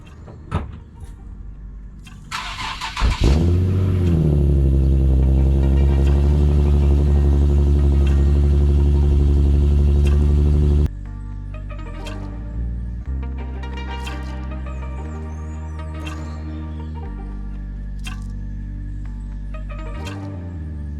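A Toyota car with a 7MGTE engine fitted with radiator sprayers starts up with a rising rev, then idles with a steady, loud engine drone before the tone shifts lower as it moves off, with occasional clicks and knocks.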